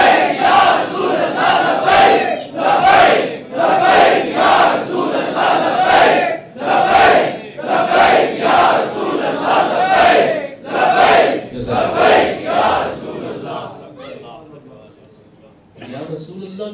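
At an Urs religious gathering in 2018, a large crowd chants the Ya Rasool Allah slogan in loud, rhythmic unison bursts about every second and a half, fading toward the end.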